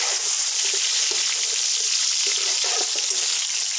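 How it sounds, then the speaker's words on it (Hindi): Garlic and ginger sizzle steadily in oil in a pan for chicken pulao, a bright continuous frying hiss with small crackles and pops throughout, close and alone with no talking. "लहसुन अदरक को हम अच्छे से भूनते हैं इसके अंदर"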